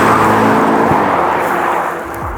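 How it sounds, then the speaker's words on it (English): A Ferrari SF90 Stradale hybrid supercar makes a loud, steady engine drone with a rising whir up close, sounding alone without any talk. "This is the Ferrari SF90 Stradale."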